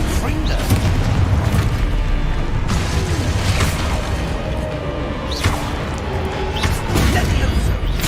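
Booming spell blasts from the Confringo fire spell erupt during combat in Hogwarts Legacy, a few heavy explosions with whooshes over a dense, continuous wash of game sound effects and noise.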